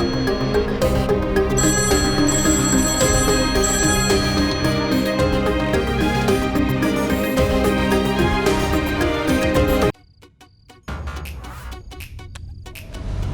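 A loud electronic phone ringtone repeats steadily for about ten seconds, then cuts off, leaving quieter background noise.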